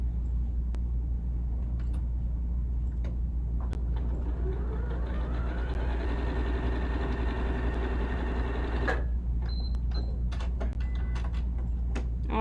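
A sewing machine stitches fabric, its motor whirring up into a rising, steady hum for several seconds before stopping, with faint clicks and handling noises around it.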